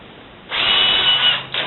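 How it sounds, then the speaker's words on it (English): Cordless drill spinning up to put a chamfer on a suspension link, a single steady close whine lasting about a second after a brief lead-in. "chuck it up in the drill, cordless drill."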